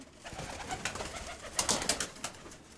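Pigeons coo and flutter inside an aviary, a steady mix of soft calls with brighter bursts of bird sound that grow louder toward the end, close by and without speech.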